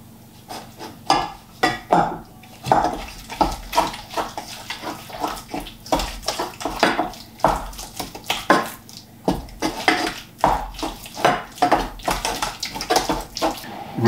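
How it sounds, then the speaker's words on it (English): A baking tray rinsed under a running cold tap in a home kitchen during patisserie baking, with steady water flow punctuated by repeated metallic clatters and knocks as the tray is handled, close and fairly loud. "Rinse it with cold water and just shake off any excess."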